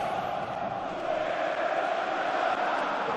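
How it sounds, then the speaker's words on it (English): Steady crowd roar filling a stadium during an Atlético Madrid versus Real Madrid Copa del Rey football match, a dense, continuous murmur of thousands of fans heard from a distance with no single voice standing out. "The sound of the crowd."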